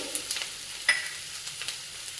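Onions and moong dal frying in a pan for jowar flour upma, with a faint, steady hiss and a few soft stirring taps.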